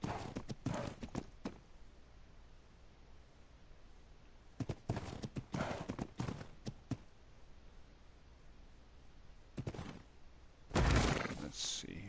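Horse hooves clip-clop in the Ark survival game, several short bursts of close, crisp steps separated by quieter stretches, with someone talking at times.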